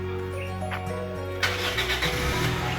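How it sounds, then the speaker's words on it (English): A 2000 Toyota Vitz previously driven in Japan and Uganda, heard up close: a starter churns for about a second and a half, then the engine catches and settles into a steady idle. "But I want you to hear how it starts."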